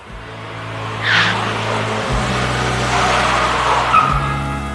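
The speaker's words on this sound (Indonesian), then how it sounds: "Truk itu pergi membawa muatannya, meninggalkan lokasi kerja" A 3D-animated blue vacuum truck pulls away from a construction site, its engine hum steady and moderately loud, with a brief whoosh early on and a short squeal near the end.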